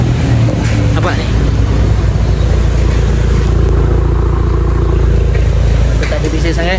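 A Proton Suprima S with a stainless steel downpipe rumbles steadily at close range, a loud, deep, constant exhaust drone with a faint high whine on top, while someone talks over it.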